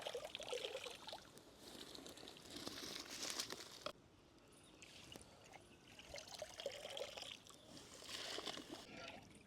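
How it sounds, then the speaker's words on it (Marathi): Basmati rice is poured into boiling water, producing a soft, rushing trickle and splash with bubbling underneath, close and quiet, easing briefly midway before picking up again. "आता आपण त्यामध्ये बासमती तांदूळ टाकून घेऊ"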